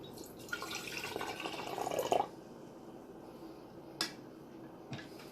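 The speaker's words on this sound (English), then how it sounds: "I'm going to pour a cup in here" Kombucha culture is poured from a container into a small jar, a close liquid pour of about two seconds that splashes and trickles, followed by a couple of faint drips and clinks, with no talking.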